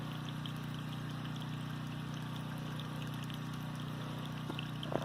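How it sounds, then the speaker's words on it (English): A well pump motor runs down below alongside a generator, making a steady, faint mechanical hum with a constant drone and no talk. "You probably hear it change pitch when it kicks in the motor, pump motor"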